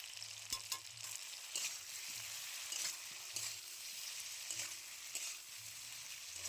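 Potatoes and soybean chunks fry with spices including dried chilli, cumin paste and coriander powder in a pan, giving a steady close sizzle broken by repeated scraping stirs at an irregular rhythm.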